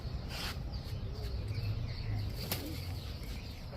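Pigeons, female birds in a loft, with bursts of flapping wings close by over a soft background murmur, a few quick flutters rising above the steady ambience.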